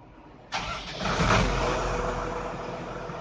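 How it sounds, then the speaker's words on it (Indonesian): A Doosan SD200N wheel loader's diesel engine cranks briefly, catches and settles into a steady, loud idle heard close up with no talking. "Kita coba starter."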